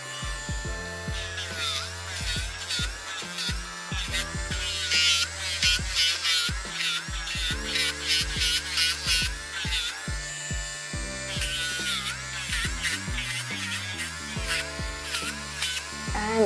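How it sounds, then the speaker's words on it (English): A Dremel rotary tool grinds a medium-to-large dog's toenails with a steady close buzzing whine, cut into many short touches and pauses as each nail is worked. "Moving on to the Dremel."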